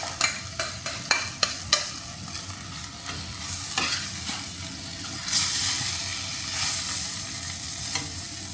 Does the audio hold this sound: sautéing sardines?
yes